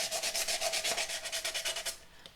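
Sandpaper rubbing the surface of a punched tin can, about sixteen quick, even back-and-forth scrubbing strokes close up, then stopping.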